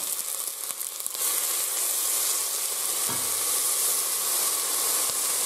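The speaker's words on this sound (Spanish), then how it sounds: "Ya está caliente y ahora echamos la cebolla." Onion dropped into hot extra virgin olive oil in a pot, for Castilian-style potatoes, bursts into a loud, steady close sizzle that holds evenly, with a brief low thump partway through.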